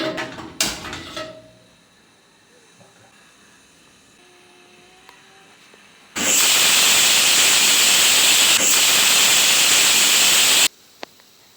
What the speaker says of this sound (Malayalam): നമ്മൾ രണ്ട് വിസിൽ അടുപ്പിച്ചെടുത്തിട്ടുണ്ട്